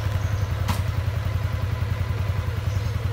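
A Yamaha R15 V3 motorcycle engine runs with light throttle, giving a steady, throbbing low pulse close by, with one brief sharp click partway through and no talking.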